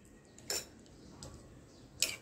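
A spoon clinks twice against the bowl while mixing fruit shrikhand, two sharp separate taps about a second and a half apart over a quiet background.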